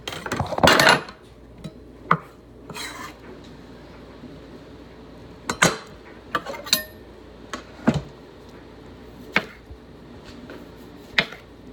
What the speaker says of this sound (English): now we're gonna keep on chopping away